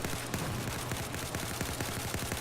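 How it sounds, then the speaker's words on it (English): Dense, sustained automatic gunfire from the Battlefield 4 video game, rapid overlapping shots and bursts layered in a constant roar of battle, fairly quiet overall with no talk. "I'm putting as much rounds down range as I can"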